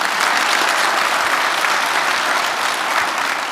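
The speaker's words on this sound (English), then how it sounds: "So give a round of applause for that." A conference audience gives dense, sustained applause throughout, loud and even, with no voices standing out.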